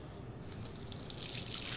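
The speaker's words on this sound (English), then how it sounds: "now we use the faucet" Faint hiss of a sink faucet running in the video game Life is Strange, a soft steady stream of water that swells slightly, with no voices.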